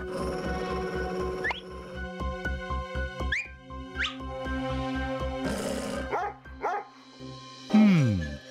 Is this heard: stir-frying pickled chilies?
no